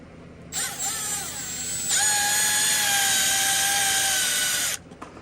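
A power drill drives screws into 3D printed feet for a VETO Pro Packout tool bag, a short whir that steps up into a louder sustained high whine for about three seconds before stopping, close and alone.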